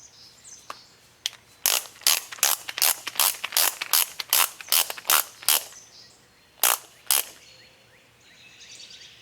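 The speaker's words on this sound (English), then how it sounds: "Here's my torque wrench." Torque wrench ratcheting while tightening valve cover bolts on a Kawasaki FH580V engine, a close run of about a dozen sharp rhythmic clicks, a short pause, then two more clicks, in a quiet space.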